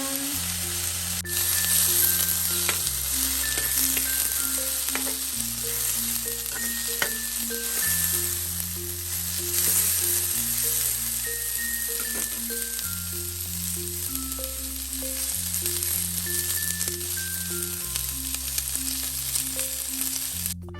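Baguio beans and kikiam stir-frying with a little oyster sauce, a steady close sizzle that runs for the whole stretch under a bed of soft tonal background music.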